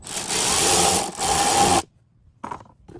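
Loud, close whirring burst of a power tool tightening a wheel onto a 2015 Nissan Murano, running about two seconds with a brief dip midway, then stopping, followed by a short clack.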